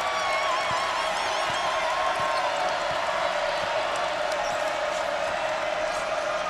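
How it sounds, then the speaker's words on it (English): A large basketball crowd at Mackey Arena, Purdue, roars steadily throughout a women's game against Texas, a dense continuous wash of cheering and shouting with a few faint thumps underneath. "The crowd making some noise here at Mackey Arena"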